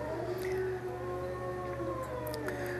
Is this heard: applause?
no